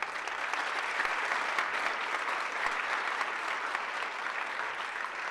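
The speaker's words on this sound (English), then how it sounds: "How about a round of applause?" Guests at the 16th Annual Crystal Owl Gala give a sustained round of applause, a dense even wash of clapping from a large crowd heard at moderate distance without speech.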